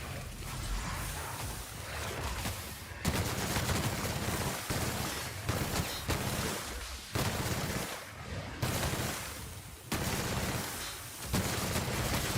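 Sustained automatic gunfire from The Outer Worlds, played on Supernova difficulty in the Cascadia area, with dense overlapping bursts and brief pauses between volleys, loud and close throughout.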